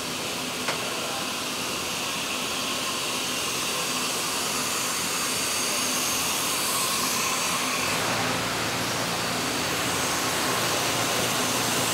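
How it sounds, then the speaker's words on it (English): A PET preform blow molding machine runs steadily, a loud continuous mechanical whoosh and hum filling the space, with a faint click near the start and a slight shift in tone partway through. "Our machine will turn this into a bottle."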